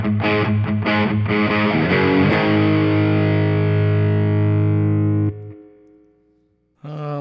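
Electric guitar played through an Ibanez TS9 overdrive pedal: a few quick distorted strums, then a long sustained crunchy chord ringing for several seconds before cutting off, with a brief chord stab returning at the end.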